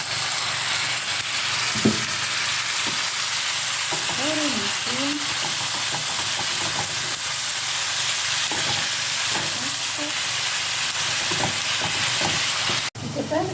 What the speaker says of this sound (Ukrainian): підсмажуються наші овочі